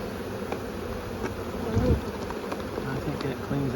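Honey bees buzz in a continuous swarming drone during a Langstroth hive inspection, close and steady, with faint knocks and handling sounds of hive parts underneath.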